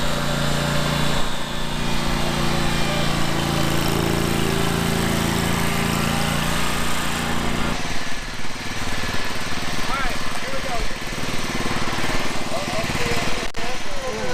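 Toro and Scag lawn mowers race at a lawn care meet-up, their small engines droning steadily and loudly throughout, with people talking over the running motors.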